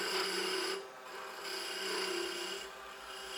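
A spindle gouge takes a light cut on a thin, flexing wood spindle turning on a lathe, giving a steady close rasping scrape that swells and eases as the tool moves along the taper, with no talk.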